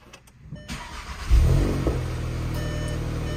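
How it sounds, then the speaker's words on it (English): Volkswagen MK7 GTI engine cranks and fires up, a loud surge as it catches, then settles into a steady idle, with a brief beep near the start. "Start the car up."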